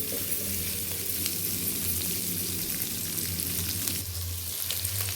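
Onions, green chillies and carrots frying in a pan for egg noodles, a steady close sizzle and crackle throughout with occasional stirring scrapes.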